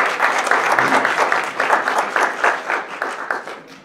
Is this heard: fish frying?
no